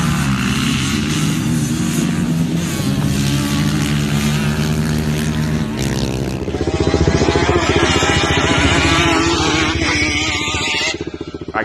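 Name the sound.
Yamaha Banshee ATV drag racing on sand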